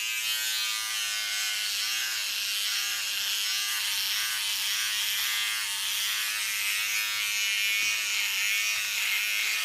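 An electric razor buzzes steadily while shaving the neck, a close, continuous high-pitched hum with no talk.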